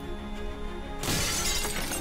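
Loud glass-like shattering bursts suddenly in the middle of a Roblox survival game, a crash breaking over a steady background hum, with scattered debris rattling after the break.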